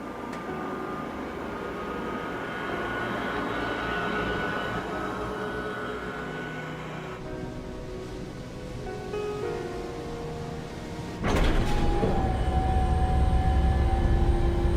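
Jet fighter engine idling and building up before takeoff in Ace Combat 7, a steady broadband roar with a whining tone that grows louder near the end.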